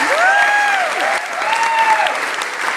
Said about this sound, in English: I just want to give a round of applause for my buddies in the show, Dylan Murphy and Lad Lopes.